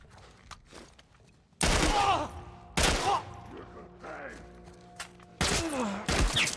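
Gunfire in The Last of Us Part I, with several loud broadband bursts of shots that come in clusters and separate volleys over game ambience, with a voice talking between them.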